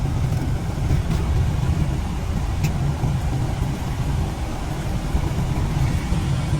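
Road traffic passes near the Chapel of the Shepherds' Field in Bethlehem as a steady, loud, low engine-and-tyre rumble with no distinct gaps, continuous throughout.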